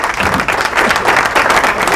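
Loud, dense studio audience applause on a cooking competition show, continuous vigorous clapping filling the whole moment with a faint murmur of crowd underneath.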